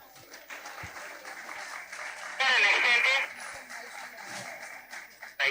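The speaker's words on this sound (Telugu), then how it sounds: "Give them a big round of applause." Applause from an audience after children act out the story of Prahlad at an Ugadi celebration program, a loud burst of clapping rising briefly under a host's amplified voice.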